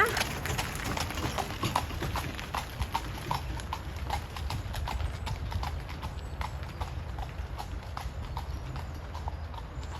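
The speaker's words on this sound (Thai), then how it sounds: "ม้าเข้ามา" Hooves of a horse pulling a carriage clip-clop steadily along a forest path in wind and rain, a regular rhythmic clatter that stays fairly near throughout.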